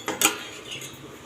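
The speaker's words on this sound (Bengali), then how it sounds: "তো আমি একবার ঢাকনা খুলে দেখব" A cooking pot lid is lifted off, two quick metallic clinks close together at the start, followed by a faint lingering hiss.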